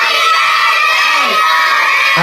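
Children shout together loudly at a birthday party during a game, a dense sustained crowd yell that fills the whole moment without pause.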